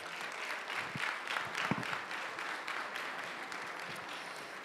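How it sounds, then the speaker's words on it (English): Fairly faint, distant applause from an audience at a city's annual state-of-the-city address greets special guests, a steady patter of many hands clapping throughout. "Round of applause for our special guests."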